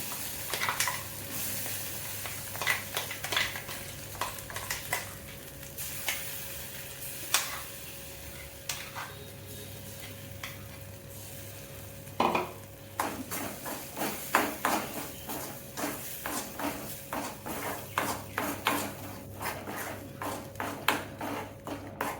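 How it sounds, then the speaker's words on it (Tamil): Mustard seeds and urad dal crackle and sizzle in hot oil for a tempering, with steady frying hiss and irregular popping bursts, plus occasional scrapes of a stirring spoon against the pan. "இப்போ இதை தாளிச்சு கொட்டிடலாம்."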